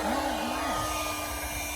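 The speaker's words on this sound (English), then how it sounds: "Y'all gonna need a new hair dryer" A hair dryer blows steadily to inflate a pool, a loud constant whooshing drone with a brief wavering whine layered on top near the start.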